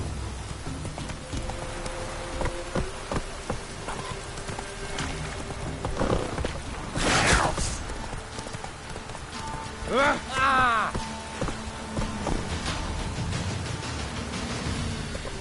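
Roach, a horse in The Witcher video game, gallops with steady clip-clop hoofbeats under continuous game ambience, punctuated by a couple of louder whooshes and a short rising tonal effect midway.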